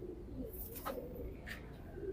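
A racing pigeon coos softly inside a loft, a few faint low calls over quiet background noise, with a couple of brief chirps from other birds nearby.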